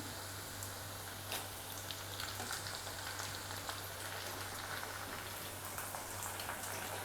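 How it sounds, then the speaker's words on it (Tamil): Steady, soft sizzling crackle of chopped tomatoes sautéing in a pan for a drumstick egg curry, continuous and fairly quiet, with a low hum underneath. "இப்போ தக்காளியும் வந்து நல்லா ஜூஸி ஆகிற வரைக்கும் வதக்கிடலாம்."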